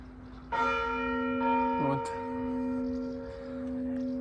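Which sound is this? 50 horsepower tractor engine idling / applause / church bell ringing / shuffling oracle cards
church bell ringing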